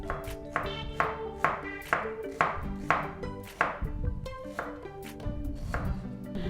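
Knife chopping half an onion on a cutting board for a salad dressing, a steady series of sharp, close knocks repeating about twice a second with no talk over it.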